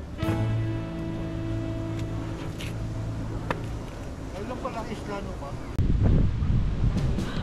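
Gusty wind buffets the microphone at the Pililla, Rizal windmill farm, a steady roar with louder bursts, while people chat over it.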